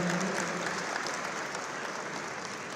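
A seated audience at the Rising Rajasthan Global Investment Summit 2024 bursts into steady, dense applause, a broad wash of clapping hands that holds at an even level throughout.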